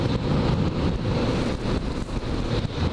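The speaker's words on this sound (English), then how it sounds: "It's a bit windy out." Steady wind buffeting outdoors, a continuous low rumble with gusty fluctuations throughout, no voices.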